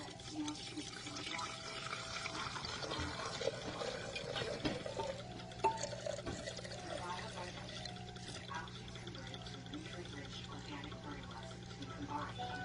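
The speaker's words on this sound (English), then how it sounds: "I'm going to pour the grain alcohol in here." Grain alcohol poured into a jar for a propolis tincture, a soft trickling and gurgling of liquid filling the glass, quiet and close, over a low steady hum with faint speech-like sounds.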